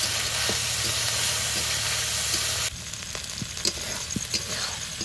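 Spice masala of salt and turmeric frying and being stirred in a pan for egg malai curry, a steady close sizzle with scattered scraping stir strokes, the hiss dropping slightly partway through.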